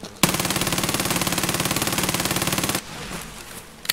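Video game gunfire: a long, steady automatic burst of evenly spaced loud shots lasting over two seconds, then cutting off abruptly into a quieter, noisy tail.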